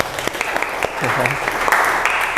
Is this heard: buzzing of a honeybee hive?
no